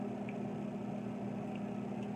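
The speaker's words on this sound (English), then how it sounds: "my pasta is in the microwave right now for this recipe" A quiet, steady low hum of a microwave oven heating pasta, with a constant droning tone and a few faint clicks.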